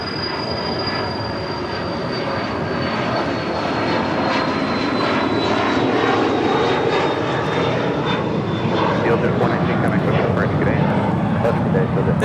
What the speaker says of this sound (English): This Phenom 300 is departing to Billings, Nicholas Air 419.